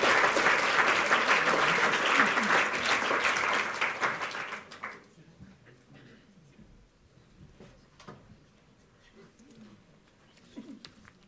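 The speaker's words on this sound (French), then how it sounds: "je pense qu'on peut aussi l'applaudir pour cette performance" An audience at a law school's academic-year opening ceremony applauds for a performance, steady full clapping that tapers off by the midpoint, leaving a quiet room with faint stray sounds.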